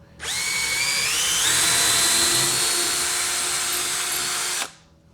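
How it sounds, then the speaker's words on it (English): Power drill whining steadily as it pre-drills a hole in cured, dry recycled wood, rising in pitch once before holding a constant tone for about four seconds, then stopping abruptly; close and clear with no talk. "First, I'm going to pre-drill the hole for the fastener, because this wood is really cured and dry, and I don't want it to split."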